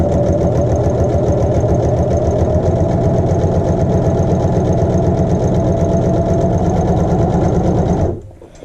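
A sewing machine stitches a fabric hem in a loud, fast, even mechanical whir with rapid needle ticking, running close and continuously for about eight seconds before stopping abruptly.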